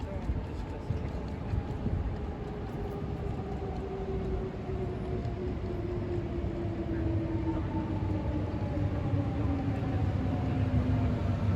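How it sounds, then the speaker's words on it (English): Passenger train riding toward Lisbon, Portugal at sunset: a steady rolling rumble from inside the carriage with a slowly falling whine, continuous and moderately loud throughout. "Goodbye, train. Thanks for the beautiful sunset ride to Lisboa."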